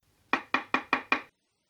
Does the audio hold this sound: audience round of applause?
no